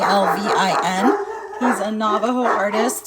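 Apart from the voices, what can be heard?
dogs barking in the background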